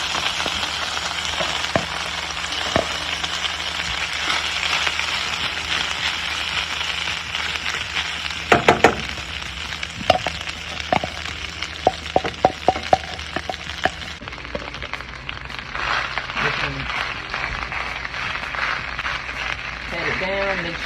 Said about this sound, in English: Now we're about to fry the rice.